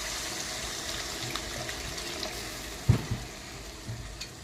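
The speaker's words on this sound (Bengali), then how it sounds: "আমি কিন্তু এখন কিছুটা জল দিয়ে দিব।" Water poured into a pan of sizzling cauliflower curry cooked village style with green chilli and ginger paste, a continuous hiss and trickle with a couple of sharp knocks near the end, close up, no voices.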